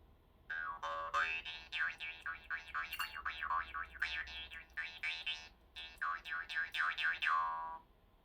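High-pitched vargan, a jaw harp, twanged in quick rhythmic strokes, its bright wobbling overtones rising and falling over a steady buzzing drone, close and clear with a short break midway and no talking.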